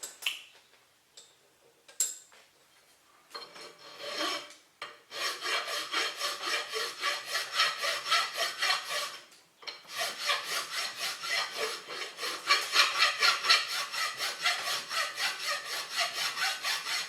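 A flat file works the brass split nut of a Covington 30-inch saw. A few scattered scrapes lead into long runs of rhythmic, close rasping strokes that grow louder toward the end, with no talking.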